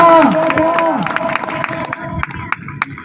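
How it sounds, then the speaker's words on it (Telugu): A church congregation claps during a pastor's sermon, with sharp, fairly regular claps repeating across the clip over a tonal background and some crowd murmur. "చప్పట్లు పెట్టు."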